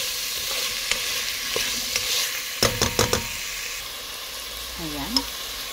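Shrimp and jackfruit simmer in coconut milk in a pan, giving a steady sizzle while a spatula stirs them, with a quick cluster of sharp utensil knocks against the pan midway.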